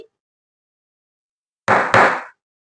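A metal spanner is tapped twice in quick succession, two short, loud, close knocks separated by a brief gap, following a long silence.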